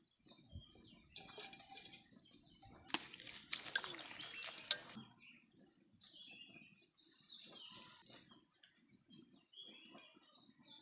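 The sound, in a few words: washing Segna Bua in water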